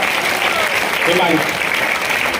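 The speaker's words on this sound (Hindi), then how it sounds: "एक बार ताली बजाओ बेटे।" Brief audience applause at a water conservation talk, a steady burst of clapping filling the hall for a couple of seconds.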